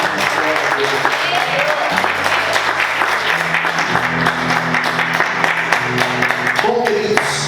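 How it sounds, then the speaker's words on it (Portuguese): A church congregation claps loudly and steadily throughout, a thick, continuous wall of hands with sustained tonal chords, likely from keyboard or organ, ringing underneath and a few voices mixed in. "Vamos aplaudir Jesus. Em fortes palmas."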